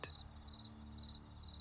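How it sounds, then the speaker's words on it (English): Crickets chirp outside at night, faint and distant, their high pulses repeating at even intervals over a quiet background. "Even the crickets outside have grown quieter, their chorus softened as though they too are drowsing."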